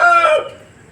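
A rooster at a Sunday chicken market in Peeleru gives a single loud, close crow that cuts off sharply and fades into quiet.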